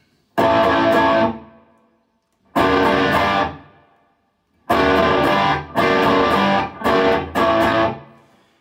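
Gritty overdriven electric guitar, played through a Line 6 pedalboard with the volume turned up, plays six loud strummed chords, each ringing briefly and cutting off, with short gaps between.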